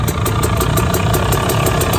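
Two-stroke dirt bike engine running at a Vegas-to-Reno endurance race, a loud close buzzing drone with rapid regular pulses and no talk over it.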